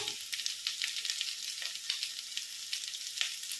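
Ginger, salt and spices hiss and sizzle in hot oil while Kolkata-style kachori is being prepared, a close, steady crackle with small bursts and no voices.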